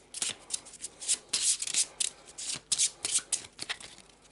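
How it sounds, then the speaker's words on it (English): Quick riffling bursts of a deck of cards being shuffled by hand for a board game, fairly close, several fast rippling flurries with brief pauses between them and no talk. "So, quick shuffle."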